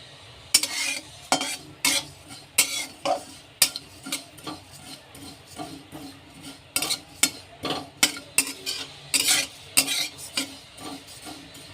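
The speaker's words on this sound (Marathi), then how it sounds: "आता जिरे जिरे भाजून घेऊयात जिरे ही अगदी मंद भाजायचे आहेत" Cumin seeds dry-roasted slowly in a pan are stirred with a spatula, making repeated scraping strokes and rattling seeds in an uneven rhythm over a faint steady hiss, close and clear with no voices.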